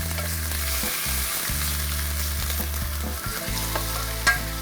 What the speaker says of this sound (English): we just finished batch browning the meat